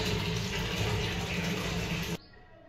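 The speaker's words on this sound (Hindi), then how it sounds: "अब मैं नीचे से पानी को पोंछ रही हूँ वाइपर से" Water being pushed across a temple floor with a floor wiper, a steady wet rushing swish that runs loud and continuous for about two seconds, then stops abruptly into quiet.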